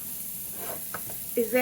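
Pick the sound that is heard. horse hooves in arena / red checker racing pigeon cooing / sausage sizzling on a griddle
sausage sizzling on a griddle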